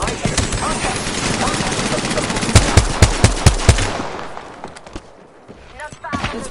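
Bursts of rapid automatic gunfire from a PS4 military shooter, several sharp evenly spaced shots in a tight volley midway over a busy battle din, loud and close, then the firing fades.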